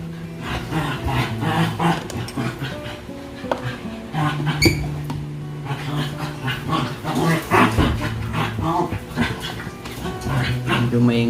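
Several pet dogs bark, yip and whimper noisily in short, overlapping bursts close by, with people talking underneath.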